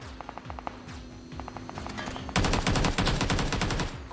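Gunfire in PUBG New State: scattered quieter shots early on over a steady background, then a loud, rapid automatic burst that rattles on for nearly two seconds.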